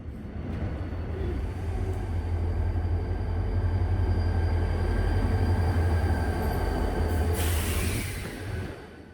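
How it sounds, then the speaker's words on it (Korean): A Mugunghwa passenger train rumbles steadily nearby at Yeongdeungpo Station, a continuous low roar with faint rail hum, ending in a brief bright hiss. "아침 7시 40분 무궁화호 열차입니다."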